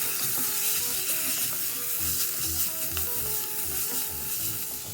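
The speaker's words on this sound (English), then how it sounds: "So this has been lightly frying for 2 minutes." Chickpea curry masala with salt and chopped coriander fries in a pan. It gives a continuous, fairly loud sizzle with light stirring and scraping throughout, and no voices.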